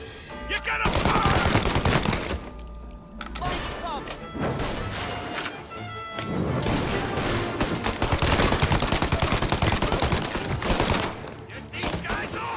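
Shootout gunfire in the crime game Mafia Definitive Edition, with loud, close bursts of rapid shots and single cracks in dense volleys, broken by short pauses, with voices shouting in between.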